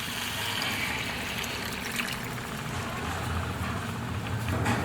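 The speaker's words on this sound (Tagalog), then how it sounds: "Tapos lagyan po natin ng tubig." Water poured into a pan of browned pork asado in a home kitchen, a steady close splashing and trickling stream lasting several seconds.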